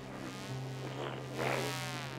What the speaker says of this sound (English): Oh, the bee! I'm hearing it too.